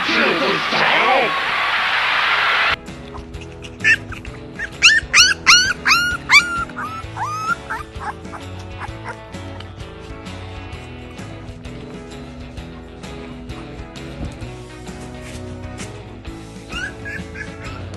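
A dog whimpers and yips in a rapid cluster of high, wavering cries, then lets out sparser yelps and barks over a low, steady background.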